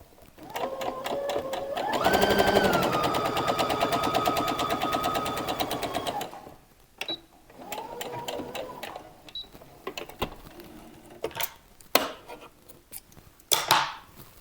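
A sewing machine stitches a straight seam on a summer dress, a fast even whirring hum with rapid needle clatter, close and loud, in two bursts followed by small clicks and handling of fabric.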